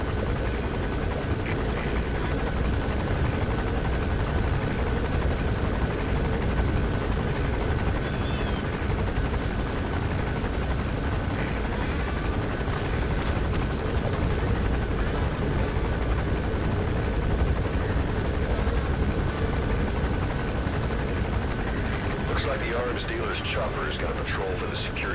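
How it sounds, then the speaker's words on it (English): A helicopter in the video game Metal Gear Solid 5 gives off a continuous, loud rotor and engine roar from start to end, with speech likely under it. "The chopper will be arriving any minute."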